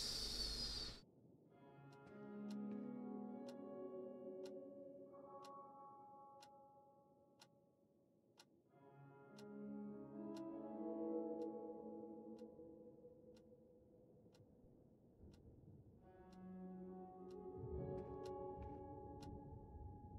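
A clock ticking in the PC horror game Darkness Within: In Pursuit of Loath Nolder, steady regular ticks over quiet ambient drones that swell and fade, no talking.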